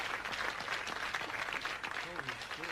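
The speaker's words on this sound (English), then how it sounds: "Round of applause for you," Faint applause from a small group, steady clapping throughout, with voices talking over it near the end.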